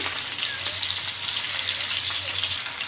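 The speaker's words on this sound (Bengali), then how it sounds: "এটা ধৈর্য নিয়ে ভাজতে হবে এপাশ ওপাশ উল্টিয়ে ভালো করে কড়কড়া করে ভেজে নিতে হবে" Chicken pieces fry crisp in hot oil in a pan, a constant close hiss and crackle of sizzling with a low steady hum beneath, no voices.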